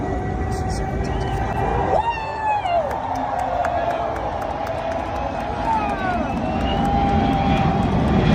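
An airplane roars steadily overhead, its engine noise filling the background while a crowd murmurs and a voice briefly speaks.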